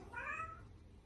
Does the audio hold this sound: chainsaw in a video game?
no